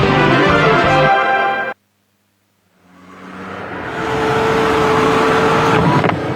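A car speeds along a road with a loud, steady roar that cuts out abruptly into a second or so of silence, then builds back up and holds at full loudness.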